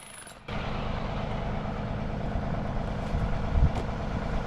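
A power tool drives a ground rod into the earth at a homestead site: a faint start, then a sudden, continuous, loud rattling hammer-like roar that holds steady and swells slightly near the end.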